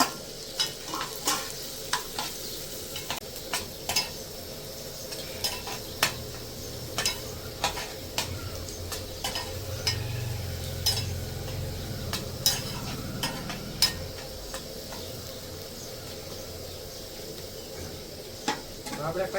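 Chopped green onions, red chillies and vegetables stir-frying for momo filling, with a steady sizzle and repeated sharp scrapes of a spoon against the pan throughout.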